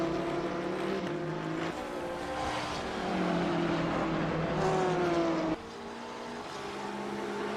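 A BMW GT3 race car engine drops through the Laguna Seca corkscrew, a steady droning roar whose pitch shifts and falls as it downshifts, with a sudden gear change near the end and no voices.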